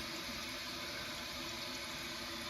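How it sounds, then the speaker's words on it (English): A toilet tank refills after the water supply is turned back on, giving a steady, quiet rush of flowing water without pause. "your tank will fill back up"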